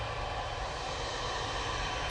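An Etihad Boeing 777-300ER with a faulty radar, lined up for departure at Manchester Airport, gives off a steady, broadband jet-engine roar that holds constant throughout, with no talk over it.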